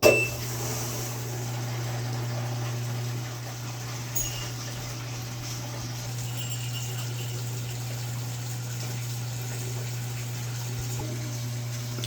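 A Danby portable washing machine runs after being started, giving a steady low motor hum with faint water swishing and one brief clunk partway through, continuous and close.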